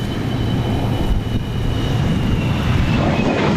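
An F-104 Starfighter jet roars at an air tattoo, a loud, broad, steady rush of engine noise filling the whole stretch without a break.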